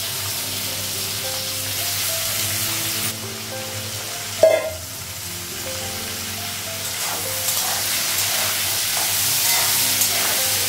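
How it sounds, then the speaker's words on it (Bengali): Spices with turmeric sizzle and fry steadily in a hot pan, a continuous close hiss with stirring and one sharp clatter partway through, no voices. "একটু ভেজে দেবো, তারপর মশলাগুলো লাগবে।"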